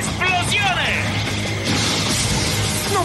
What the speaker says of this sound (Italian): Esplosione!